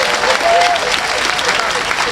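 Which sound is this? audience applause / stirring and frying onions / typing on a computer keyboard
audience applause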